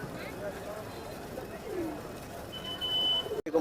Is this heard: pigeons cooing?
yes